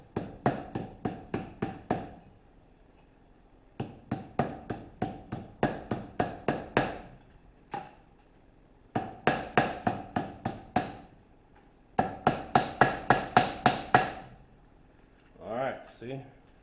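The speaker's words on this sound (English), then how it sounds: "I just take these and hammer them down" Bursts of rapid metallic hammer blows on copper pieces atop an anvil ring out in quick runs, separated by brief pauses, close and fairly loud, ending with a few softer knocks.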